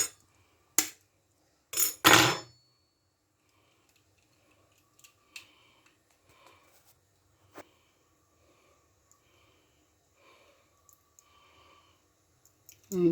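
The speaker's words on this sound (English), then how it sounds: "what we need to do now is to break the eggs and separate the" Eggs cracked for egg fried rice: a few sharp, close clicks and taps of shell breaking, then faint scattered small sounds of separating whites and yolks in a quiet kitchen.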